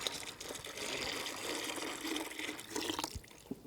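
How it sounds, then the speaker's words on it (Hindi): Milk is poured into an organic manure mixture, making a continuous close splashing liquid pour that fades out near the end. "अभी हम इसमें दूध डालेंगे।"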